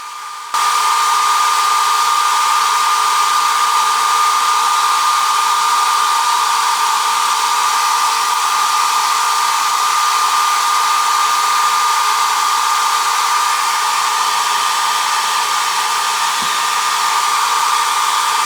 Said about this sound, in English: I'm gonna go in with my blow dryer and press it all down.